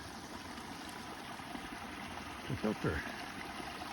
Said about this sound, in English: came across this lovely brook, and I got some water